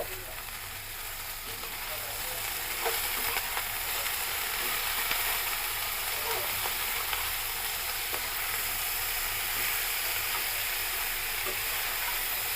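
Vegetables for noodles, cooked without onion or garlic, fry in a pan with salt: a steady, close sizzle and hiss that continues throughout, with occasional stirring clicks and no voices.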